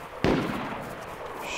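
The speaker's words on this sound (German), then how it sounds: "ich höre die Schüsse" A single sharp gunshot from the DayZ video game rings out, a loud sudden crack followed by a brief fading tail, with no talk over it.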